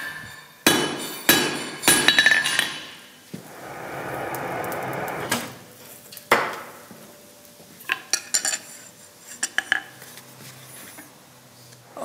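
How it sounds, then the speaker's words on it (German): A hammer strikes glowing hot iron being forged into a frying pan, a series of sharp metallic blows in uneven bursts, with a sustained hiss or scraping stretch in the middle, close and loud. "Metall unter Hitze mit dem Hammer verformen"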